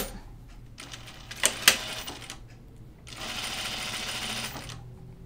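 A sewing machine stitches a caftan in two runs, a short burst with sharp clicks followed by a pause and a longer steady whirring run, close and fairly loud.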